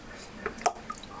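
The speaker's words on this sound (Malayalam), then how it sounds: "അപ്പോൾ നമ്മളൊരു തണുത്ത വെള്ളത്തിലേക്ക് ഇതിങ്ങനെ കട്ട് ചെയ്തിട്ട് ഇടാം കേട്ടോ." Freshly cut aloe vera pieces drop into cold water, making a few small, soft splashes and drips close by in a quiet room.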